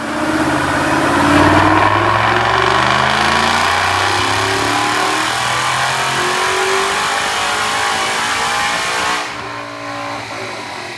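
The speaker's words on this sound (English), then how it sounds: "Check out this dyno pull." Supercharged 2011 Mustang GT with an Edelbrock supercharger, 3.5 pulley and manual transmission, run on a dyno: a loud, steady engine roar climbing through the revs for about nine seconds, then backing off as the pull ends.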